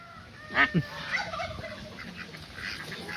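A few sharp honking quacks from ducks being chased and caught ring out up close, followed by softer scattered calls and shuffling.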